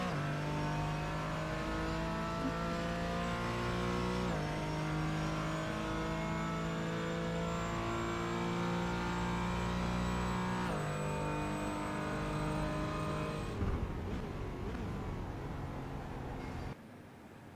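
A race car engine in a racing simulator game at Silverstone drones steadily at high revs, with two clear gear shifts, before the sound cuts out and breaks up near the end.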